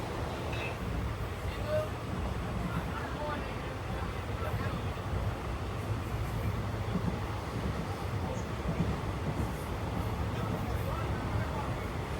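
A train rumbles along steadily, with constant low noise and wind buffeting the microphone.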